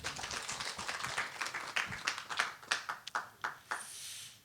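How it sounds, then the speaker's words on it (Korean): A lecture audience giving a short, sparse round of clapping, a handful of distinct claps growing more spaced out before fading, fairly faint. "박수 한번 쳐주십시오"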